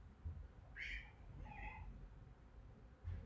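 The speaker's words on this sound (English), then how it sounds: "Is that a cat?" A cat meows twice in quick succession, two short, moderately distant cries over a low steady background hum, with no voices.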